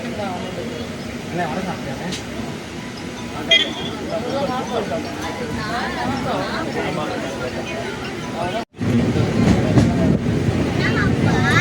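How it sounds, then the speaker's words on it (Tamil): A passenger express train rumbles steadily along the rails with a continuous low roar and faint rhythmic clatter near the Kollidam river bridge, while people talk over it. "இப்போ நம்ம ட்ரெயின் கிளம்பிடுச்சு."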